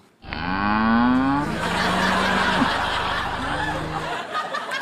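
Cattle moo loudly and close, with one long drawn-out call followed by a second lower moo, and a faint bit of laughter underneath.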